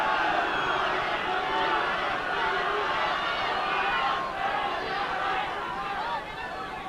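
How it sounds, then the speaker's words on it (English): A huge local rugby crowd at Pontypool's 1989 home match against the All Blacks roars and shouts encouragement, a dense continuous wall of cheering and voices holding steady for several seconds before easing slightly. "A little bit of encouragement then from the local crowd, a huge crowd"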